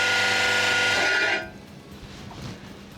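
A drill press in a woodworking shop runs with a loud steady motor whine for over a second, then cuts off and winds down to quiet room noise.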